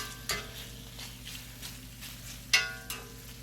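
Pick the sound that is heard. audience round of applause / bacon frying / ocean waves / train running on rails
bacon frying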